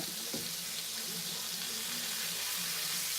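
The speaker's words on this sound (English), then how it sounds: "I'm not going to fry these all the way down because they're going to go in gravy" Cube steak sizzles and fries in a pan with a steady, loud crackling hiss throughout.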